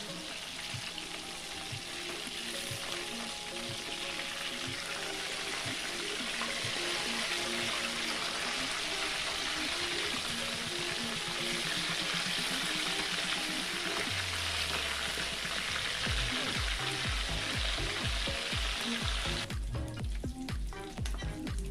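Fish pieces for a Jamaican sweet and sour dish frying in hot oil, a continuous close sizzle and crackle with steady popping, briefly joined near the end by clinking and handling noises.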